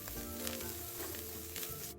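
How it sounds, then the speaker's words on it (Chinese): Dried shrimp and diced Chinese sausage sizzling as they are stir-fried in a pan, a steady quiet crackle with occasional scraping of the spatula. "将所有食材一起拌炒至香味溢出"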